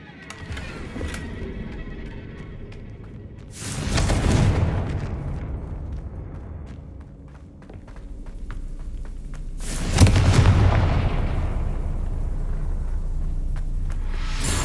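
Two heavy blasts from the Confringo explosion spell in the Hogwarts Legacy video game, each a loud booming burst that fades into a rumbling tail, spaced several seconds apart over a steady background drone.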